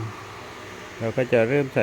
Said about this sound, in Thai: ก็ต้องขออภัยกับเสียงพัดลมนะครับ ทุกท่านครับมันดังนิดหนึ่งนะครับ อากาศร้อนครับ วันนี้ต้องเปิดพัดลม